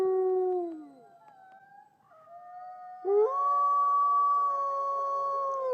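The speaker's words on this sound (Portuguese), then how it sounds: "eu e os meninos ouvimos um uivo que até hoje me mata" A wolf howl sound effect in a Portuguese-language werewolf story: a long, wavering, mournful howl that falls away, a quieter lull, then a second sustained howl rising strongly and holding steady, clear and alone.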